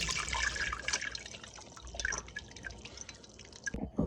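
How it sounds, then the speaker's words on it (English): Liquid drains from canned corn, splashing and dripping in a close, continuous patter that thins out toward the end, with a few heavier drops. "And the corn, it's gonna be the last thing we drain"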